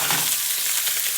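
Shallots fry in a pan with a loud, dense sizzle, a bright steady hiss that fills the short moment without voices.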